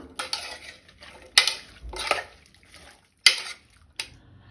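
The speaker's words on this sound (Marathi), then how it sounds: "तातूंत हांव मुळो घालता, कांदो घालता, थोडे मीठ घालता, मिक्स करून घेता" A spoon clinks and scrapes against a pressure cooker pot as radish, onion and salt are mixed in it, giving several sharp, separated knocks with quiet rustling between them.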